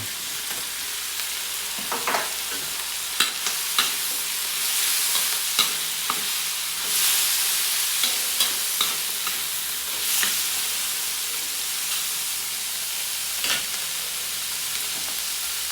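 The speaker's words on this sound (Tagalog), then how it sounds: "Kaya haluin muna natin ulit." Tinapa (smoked fish) and mung beans stirred in a hot pan, a steady close sizzle broken by repeated scraping strokes of a spoon against the metal, with no talking.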